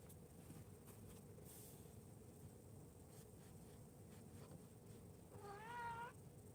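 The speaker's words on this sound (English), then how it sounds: "We got the studio cat here making some noise." A cat in an art studio gives one drawn-out, rising meow near the end, over a quiet steady background hum and faint indoor noise.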